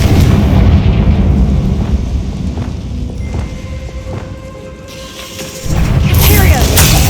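A Confringo fire spell goes off in Hogwarts Legacy, a heavy booming blast with a rumbling tail, followed by a second loud burst near the end.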